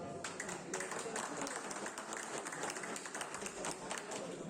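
Continued clapping at a Warsaw district pigeon-fanciers' meeting honouring the marathon-category champion, a dense, even burst of many hands close by, with crowd noise mixed in throughout.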